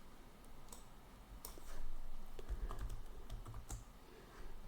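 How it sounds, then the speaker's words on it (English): Text is typed on a computer keyboard, a quiet, irregular run of soft key clicks and taps, close up and on its own without talk. "Just typing the text, what we like to use"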